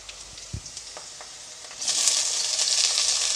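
Pundi (sorrel) leaves dropped into hot oil with fried onions, a few soft clicks and taps, then a sudden loud, continuous sizzle that holds steady to the end.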